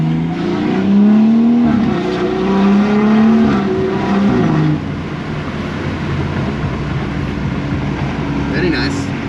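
BMW F30 340i engine and exhaust revving loudly, rising and falling in pitch through several pulls for about five seconds, then settling into a rougher, lower drone. A voice briefly talks over it.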